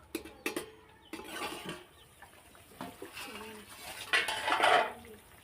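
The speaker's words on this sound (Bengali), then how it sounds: "ঢাকনাটা দিয়ে দেবো" A lid goes onto a cooking pot of fish curry with carambola, making a few close metallic clanks and scrapes. A quiet voice talks alongside.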